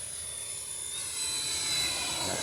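A Freewing A-6 Intruder radio-controlled jet with an 80mm electric ducted fan flying past on a landing approach with flaps and gear down, a high, whining turbine-like whoosh that swells steadily louder, no talking.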